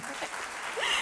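Audience at a university campus anniversary closing ceremony applauding a performer, a brief burst of clapping under a speaking voice.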